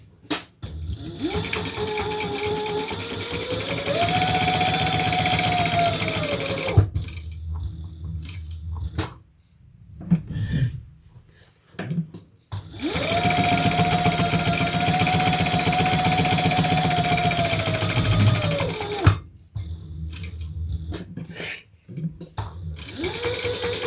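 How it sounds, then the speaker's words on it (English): A sewing machine stitches the side seams of a bag in two long, steady runs, its motor whirring as it ramps up and settles, with brief pauses of clicks and handling between the runs. "we're going to sew down the side, across the bottom, and back up the other side"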